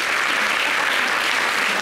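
Studio-style applause effect on a TV show, a steady, loud, uniform wash of clapping that holds at a constant level throughout without any pause or voices.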